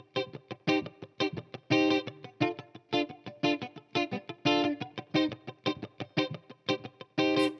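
Rhythmic, heavily muted guitar chords strummed on the top four strings in a funky pattern, short choppy stabs with a slightly distorted, effected tone, played alone and steadily.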